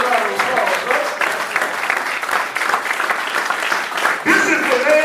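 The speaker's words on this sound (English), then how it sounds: "I'll receive you with a round of applause" Sustained applause from a meeting audience at a Nation of Islam state gathering in Mississippi, steady dense clapping filling the whole stretch without pause.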